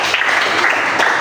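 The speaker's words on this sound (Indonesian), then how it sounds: "Beri tepuk tangan dulu dong." Audience applause at a church gathering, a dense, steady wash of many hands clapping at full loudness throughout the brief moment.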